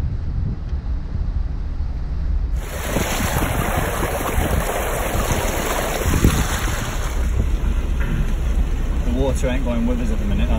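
Peugeot 106 car pushing through flood water: continuous rushing, splashing water noise with heavy wind buffeting on the microphone, loud and close throughout, with faint voices mixed in.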